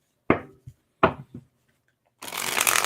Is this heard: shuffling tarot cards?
yes